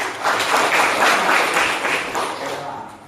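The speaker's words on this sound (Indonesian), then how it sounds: "Tepuk tangan, namanya siapa Bu?" Classroom applause during a school lesson, a few seconds of steady clapping from a group of students that gradually fades toward the end, with some voices mixed in.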